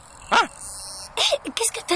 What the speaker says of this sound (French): Qu'est-ce que t'as à aboyer?